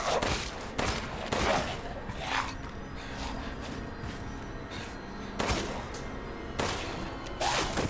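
Gunfire from the video game Resident Evil Village: loud bursts of shots and heavy impacts come in clusters over steady game noise and music, with a player shouting at moments.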